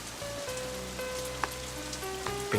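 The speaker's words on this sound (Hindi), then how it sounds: "बारिश आ गई है, चलो।" Rain patters down in a Hindi film scene, a soft continuous wash of drops with a sustained musical tone running through it and a couple of sharper taps, no speech.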